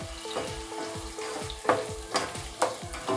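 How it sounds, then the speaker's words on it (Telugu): Onions and green chillies fry in a pan for chicken dum biryani, a steady close sizzle broken by rhythmic scraping stirs and a few louder clanks of the spoon against the pan. "ఈ ఉల్లిపాయలు ఎర్రగా వేగాలి"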